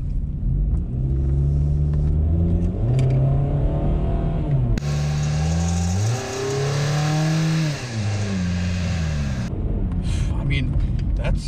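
A car engine running on olive oil in place of engine oil, revving up and down in repeated smooth swells over a deep steady rumble, loud and close.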